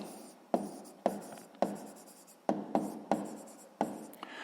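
A pen writes on paper while a sixth-grade math exercise is being solved. Several short scratching strokes come in quick bursts separated by brief pauses, close and quiet.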